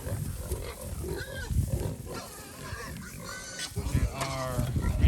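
Red Wattle and Tamworth-Mangalitsa cross pigs, mostly pregnant and 36 weeks into raising, grunt and snort continuously at close range inside a ranch pen, with rustling and a voice mixed in.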